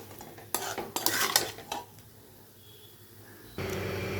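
Mutton sizzling in a pan is stirred and pressed with a metal utensil in bursts of scraping and clinking, followed by a quieter frying hiss.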